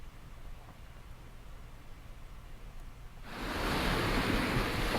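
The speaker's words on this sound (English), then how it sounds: "Beach sounds, hopefully." Beach waves as a game sound effect, a soft low wash that swells suddenly into a loud, broad surf roar partway through, with no voices.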